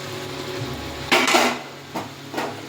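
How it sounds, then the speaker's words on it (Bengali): A metal lid is set down on a cooking pot of chicken and cabbage curry, giving a sharp clattering clank followed by two lighter knocks, loud and close with no talking. "এবার একটু ঢাকা দিয়ে দিতে হবে তো বন্ধুরা"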